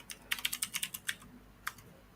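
Quick bursts of typing on a computer keyboard, about a dozen crisp keystrokes in a fast run, then a single final tap after a short pause, close and fairly quiet.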